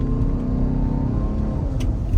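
A 2020 Ford Explorer Limited Hybrid with a V6 engine accelerates, giving a steady, loud low engine drone with a rising tone, heard from inside the cabin.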